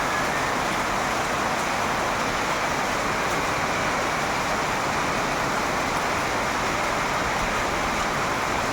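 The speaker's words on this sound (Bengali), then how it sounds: "খুব জোরে বৃষ্টি হচ্ছে এদিকে, আর সঙ্গে শিল পড়ছে" Heavy rain mixed with hail pours down at night in Krishnanagar, Nadia, making a dense, continuous roaring hiss that stays at an even, loud level throughout, with no pauses and no voices.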